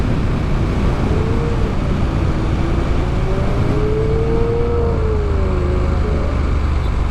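A Lamborghini Aventador supercar passes on a street, a steady loud engine roar with a rising and falling whine sweeping through it, no talk over it.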